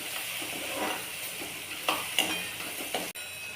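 Chopped tomato is sautéed in oil with a pinch of turmeric, making a quiet, steady sizzle with a few light stirring scrapes and a short clack near the end.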